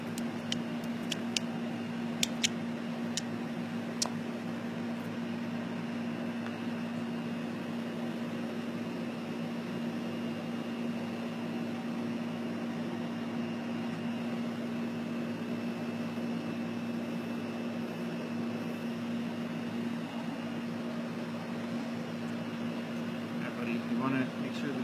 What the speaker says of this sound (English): every single air conditioner out here decided to kick on. So it is a little bit noisy